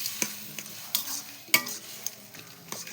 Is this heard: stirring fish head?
yes